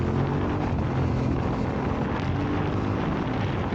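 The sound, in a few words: noisy motorcycle exhaust while riding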